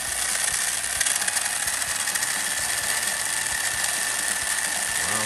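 A 1987 Tamiya Hornet RC car running on its original electronics with a mechanical speed control: a continuous high-pitched electric motor whine with rattling gear noise, loud and close, steady for the whole stretch with no talking.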